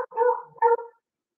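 A beagle gives two short, harmonic barks or yips close by, with a brief pause between them, in a quiet indoor setting.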